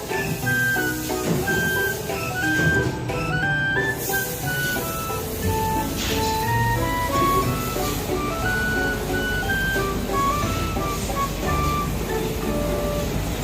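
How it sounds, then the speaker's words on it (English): Continuous deburring machine noise with a whooshing dust collector fan underneath and shifting whining tones on top, steady and fairly loud. "Noise testing for machine with dust collector and vacuuming sort fan."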